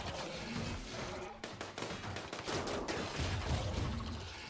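Turrets open fire during a RimWorld space-ship battle, spraying rapid bursts of gunfire with thuds of impacts, dense and continuous, loudest near the end.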